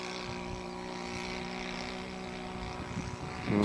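An RC model airplane engine drones steadily in flight, trailing smoke and running a little rich, a constant buzzing tone with a brief louder swell at the very end.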